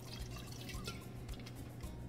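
White vinegar splashed into a pot of water in a kitchen, a soft liquid trickle and drip sounding close over a steady low hum, with no talking.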